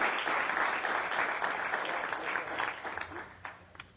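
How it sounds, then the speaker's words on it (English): Warm applause from a city council meeting audience for a police officer honored as the top DUI arresting officer, steady and sustained for about four seconds, thinning toward the end with a few sharper claps. "So please give him a warm round of applause as well."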